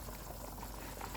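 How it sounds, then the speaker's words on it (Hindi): Water boiling in a covered pot for aloo matar pulao, a steady dense bubbling rumble heard up close with no voices. "उबाल आ गया, इसमें चावल डाल देंगे"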